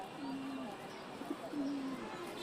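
Pigeons of several colours, black, white and tan, coo in low, drawn-out phrases, two clear coos rising and falling over a soft steady background hum.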